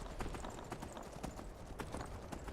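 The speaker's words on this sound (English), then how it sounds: "Shadowmere. Coolest horse in the game." Shadowmere, the black horse in the Skyrim video game, clip-clops with steady hoofbeats that repeat close and clear across the whole stretch, with game ambience behind them and no talk.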